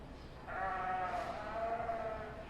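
A sheep bleating at a county fair sheep show, one long wavering bleat standing out clearly over a low background hum.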